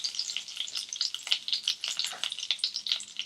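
Whole spices, bay leaves, peppercorns and cloves, crackle and sizzle in hot oil for a mushroom fry, a steady busy spitting with small pops, close and moderately quiet with no talking.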